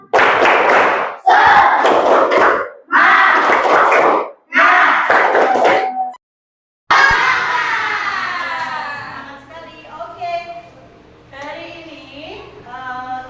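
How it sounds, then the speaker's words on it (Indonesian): A morning Islamic religious education class in Indonesia performs a spirit clap with a shouted group chant: four loud, rhythmic bursts of clapping and voices, followed by a teacher speaking alone. "Tepuk semangat."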